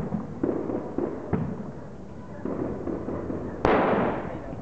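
Firecrackers bursting outdoors in a quick series of sharp pops, several close together early on and one louder, nearer bang near the end, with no talk during the blasts.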